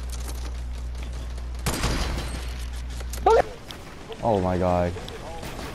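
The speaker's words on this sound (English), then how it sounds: "Someone's shooting." Gunfire in a shooter video game, a burst of shots and a short crack among other game sounds, with a person speaking over it.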